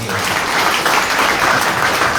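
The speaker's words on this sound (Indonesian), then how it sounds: "Yang setuju tepuk tangan bagi Allah." A church congregation applauds for God during an Indonesian sermon, a dense, loud, steady wash of many hands clapping at once.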